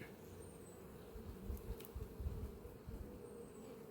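Honeybees buzz in a steady, faint drone around an open hive at an apiary, with soft handling thumps and no talk.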